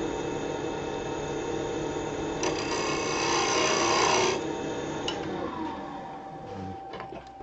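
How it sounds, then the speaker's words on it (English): A box scraper shaves a cross-grain wooden box on a woodturning lathe, giving a raspy scraping burst of a couple of seconds over the quiet hum of the spinning lathe, followed by lighter scrapes. "I'm going to use a box scraper to sneak up on that fit"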